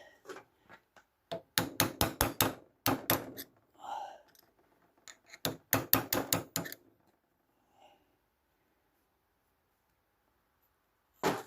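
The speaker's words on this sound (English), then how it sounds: "Turn it like that, and chisel it that way." A hammer strikes a chisel on a Peugeot 404/504 BA 7 four-speed gearbox synchromesh part, sharp metallic blows in quick bursts of several hits separated by pauses, close and loud, with no voice over them.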